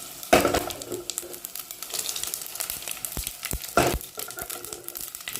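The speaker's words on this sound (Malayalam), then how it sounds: "നല്ലോണം കടുക് പൊട്ടി കഴിഞ്ഞതിൻ്റെ ശേഷം" Mustard seeds splutter in hot oil in a pan, a soft continuous sizzle broken by sharp, louder pops and crackles at irregular moments, close by and with no voices.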